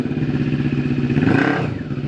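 A 2022 CFMOTO 400cc motorcycle on a test ride, its engine loud and close as it pulls and accelerates, with a rough, rising growl and a bit of mechanical clatter.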